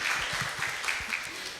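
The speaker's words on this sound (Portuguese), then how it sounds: "Salve de palmas, pessoal." Scattered clapping from a church audience at a marriage-themed gathering, a short steady patter under faint background noise, with no voices over it.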